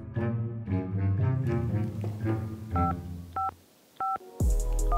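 Telephone keypad dialing tones, a few separate beeps spaced apart after a stretch of music, ending on a louder tone.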